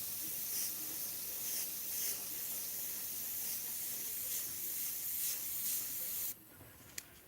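Createx paint sprayed through an airbrush onto Blair synthetic paper, a steady close hiss running throughout with faint pulses, ending abruptly near the end as the spray stops and quieter room tone remains.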